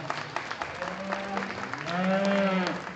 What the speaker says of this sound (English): how about a nice round of applause for Riley de France?